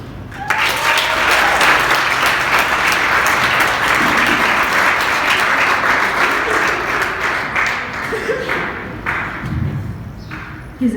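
A live audience applauds a poet after a spoken-word performance on voter registration, a dense, loud wash of clapping that holds steady for most of the stretch before thinning slightly near the end.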